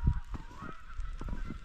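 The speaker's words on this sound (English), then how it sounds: "You hear the birds." Birds call outdoors on a snowy early-spring day, with a string of nearby honking, goose-like cries in quick succession over a steady background hiss.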